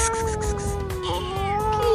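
A homeless cat meows outdoors, a clear drawn-out cry rising and falling over background noise, fairly close.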